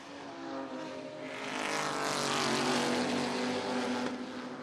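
GT4 race cars at Spa-Francorchamps on a dry, cool track, engines roaring loud and close as they pass under late braking, a sustained rising and falling drone with no talk.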